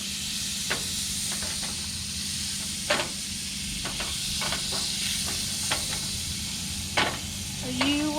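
Butter sizzles steadily in a frying pan as it is stirred, a continuous bright hiss broken by occasional utensil scrapes and clicks, close and moderately loud with no talking.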